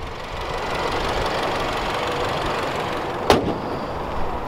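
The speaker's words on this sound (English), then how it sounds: "And there's that great twin power turbo engine." A 2017 MINI Cooper S hardtop with a twin power turbo engine runs at a steady idle, a continuous close engine rumble, with a single sharp knock or thud near the end.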